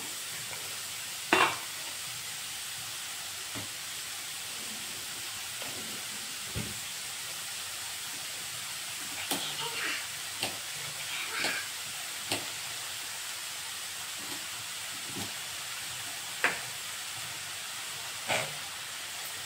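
Chickpeas for chole masala curry sizzle gently in a pan, frying until golden, with a steady soft hiss broken by occasional spoon scrapes and taps of stirring, close and fairly quiet, no voices.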